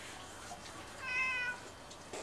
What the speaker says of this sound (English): I got a helper kitty.